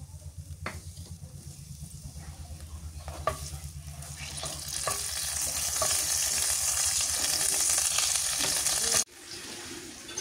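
Onions sizzle steadily in hot oil until reddish, growing louder as they fry, with occasional stirring scrapes and a brief clatter near the end.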